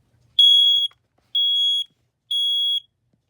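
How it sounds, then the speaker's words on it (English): A modern household smoke alarm sounds during a test, giving three loud, evenly spaced high-pitched beeps of about half a second each, close by, with silence between them. "I just do this until it beeps."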